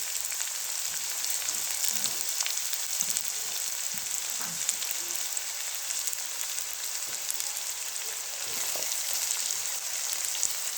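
Onion, ginger and garlic frying in hot ghee give a steady, even sizzle with fine crackling throughout, moderately loud and continuous with no voices.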